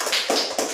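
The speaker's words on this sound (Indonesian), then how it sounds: "Iya, tepuk tangan" A classroom of students claps hands in a short burst of dense, crisp claps, with a couple of stronger accented beats at close range.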